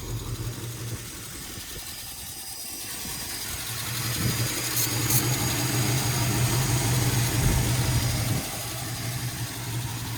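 1957 Chevy Bel Air engine idling just after its first start in over fifteen years, a steady low rumble that swells a little midway then eases back, continuous and close with no talk.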